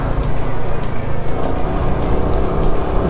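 Royal Enfield Himalayan 450 motorcycle ridden along a rough, slow road, giving a loud, steady engine drone with bumpy rumble and wind noise throughout, no talk.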